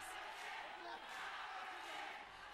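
A packed crowd at a shoot wrestling match between Masayuki Naruse and Atsushi Tamaki roars in dueling chants, a dense, steady wall of voices with no clear gaps.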